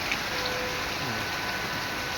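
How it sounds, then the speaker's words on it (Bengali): Monsoon rain falls steadily in the early afternoon, a soft, even hiss of drops on surfaces that stays constant and moderately quiet throughout, with no voices. "এটা হলো বর্ষাকালের বৃষ্টি"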